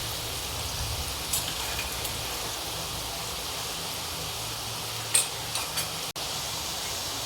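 Onion fries in a pan with a constant, rain-like sizzle and crackle, joined by a few soft stirring knocks and scrapes. The sound is close and steady, with no talking.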